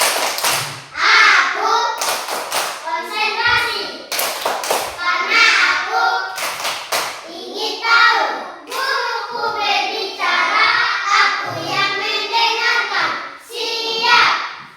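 A classroom of children performs the 'tepuk konsentrasi' clapping routine, sharp patterned clap bursts close by, interleaved with chanted voices over about fifteen seconds.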